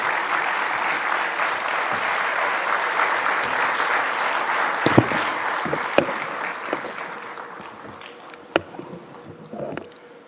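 An audience at the NDTV World Summit 2025 applauds to welcome Indian Prime Minister Narendra Modi. The loud, sustained clapping thins out toward the end, leaving a few sharp, scattered claps.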